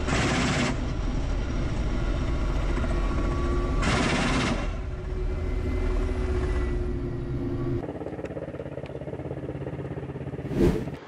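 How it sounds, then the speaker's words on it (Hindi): Russian Ka-52 and Mi-28 attack helicopters strike together over Ukraine with a sustained, loud mechanical roar. Bursts like rapid gunfire break through the roar, and no one speaks. "रूस का KA-52 और Mi-28 अटैक हेलीकॉप्टर एक साथ हमला कर रहे हैं यूक्रेन पर"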